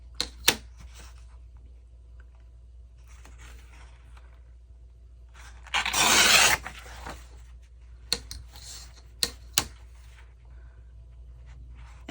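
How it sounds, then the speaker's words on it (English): Paper edges are ripped by hand for a rough-cut look, producing a short, close tearing burst in a quiet room, surrounded by a few sharp taps and rustles. "I'm going to first just rip a little bit off of all the sides and so that it will look, you know, kind of rough cut"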